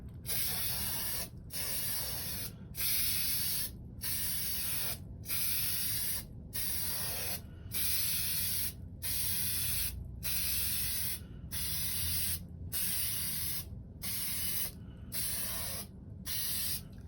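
Plasti Dip coating sprayed from an aerosol can in a regular series of roughly one-second bursts separated by short gaps, a steady close hiss repeated about a dozen times with no voices.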